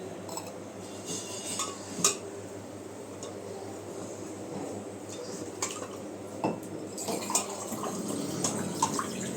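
A child slowly stirs lemon water with a spoon in a cup, making light, irregular clinks and scraping taps of metal against the vessel over a faint background hiss.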